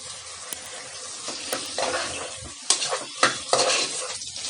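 A spoon stirs soy sauce into ginger garlic paste frying in a pan, with a steady sizzle and several sharp scrapes and clinks against the metal, close and alone.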